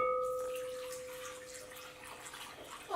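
Liquid pours into a mixing bowl in a home kitchen, a soft, steady splashing trickle lasting a few seconds, close and fairly quiet, after a brief ringing clink at the start.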